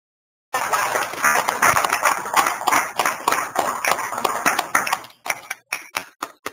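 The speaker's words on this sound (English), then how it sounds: "We're going to clap in Grand Island for you" A small group claps steadily and fairly close for about five seconds, then the clapping thins out into a few scattered claps as it ends.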